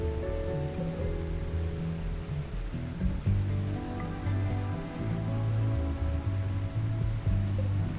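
Steady rainfall from RimWorld, a soft continuous patter and hiss layered with low sustained musical tones, even in level throughout with no speech.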